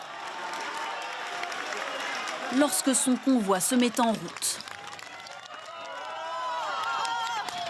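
Crowd outside cheering and applauding as Nicolas Sarkozy's police-escorted convoy sets off for la Santé prison, a broad steady roar with a surge of clapping in the middle, under a French news narrator's voice.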